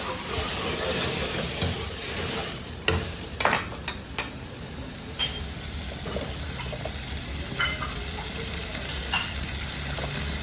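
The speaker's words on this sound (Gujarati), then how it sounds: "તડકા મારે છે ભાઈ બંધ." Tempering sizzles steadily in a pan as paneer gravy is finished, a continuous close crackling hiss with a few brief sharper pops and clinks along the way.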